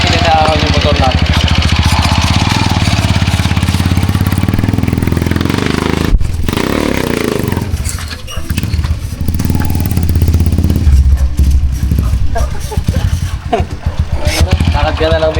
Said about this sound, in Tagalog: inaahon po namin yung motor namin